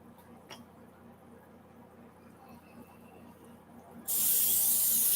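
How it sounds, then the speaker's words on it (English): After a quiet stretch with faint background hum, a can of cooking spray coats a cookie sheet in one sharp, loud, continuous hiss that runs to the end. "Spray that with Pam."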